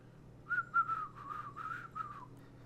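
A person whistles a short run of clear, bright notes, a few crisp chirps followed by a wavering tune, close and fairly soft against a quiet backdrop.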